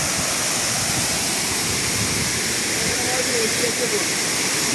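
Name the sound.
Sanaghagra waterfall in monsoon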